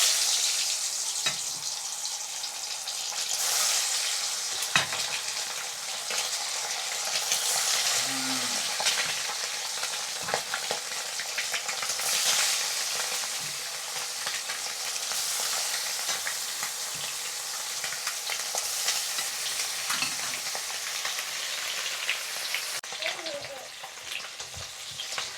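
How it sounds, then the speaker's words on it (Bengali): Eggs fry in hot oil in a kadai, giving a steady, loud sizzle that runs throughout, with occasional scrapes and clinks of stirring and no talk. "এখন আমি ডিমগুলো ভেজে নেব।"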